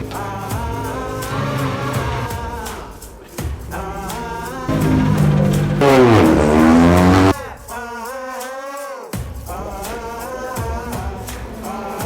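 A race car on a flying lap at Donington Park GP circuit, its loud, close engine note climbing and dropping through the gears, with whining harmonics sweeping up and down.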